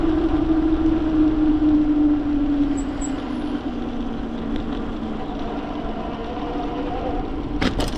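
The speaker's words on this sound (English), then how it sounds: "This motor's a little bit of a noisy boy on 60 volts." A Bafang G900 750W e-bike mid-drive motor running on 60 volts: a steady, loud whine with a droning tone that dips slightly in pitch, continuous and near, with a brief knock near the end.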